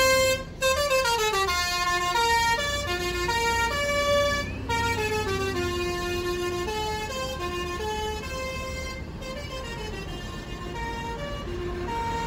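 A Kalingga Jaya bus at a busy terminal plays its basuri telolet musical horn: loud, nonstop melodic tooting in quick shifting notes for about twelve seconds, with only a few brief breaks.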